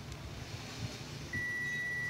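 A multimeter's continuity beep on a shorted pin of a welding machine starts partway through and holds continuously, thin and moderately loud over a low background hum and faint rustling.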